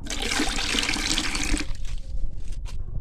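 Fermented ground red lentil water, soaked for over a month, poured out as a loud, close splashing stream for about a second and a half, then a few scattered drips and trickles.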